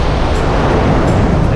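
Rough, choppy sea washing onto a long sandy beach on the Costa Smeralda, Sardinia, a steady broadband surf roar with wind, continuous and fairly loud throughout.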